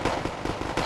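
Gunfire in Wargame AirLand Battle, as engineer infantry shoot at Spetsnaz troops: a short, fairly steady series of quick rattling shots under a dense battle din.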